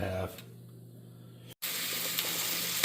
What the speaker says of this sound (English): we're going to add our Italian sausage